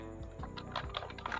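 Rapid typing on a computer keyboard while writing CSS code, a steady run of close, crisp key clicks with no talk over it.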